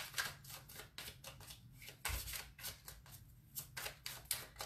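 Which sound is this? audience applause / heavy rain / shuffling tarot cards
shuffling tarot cards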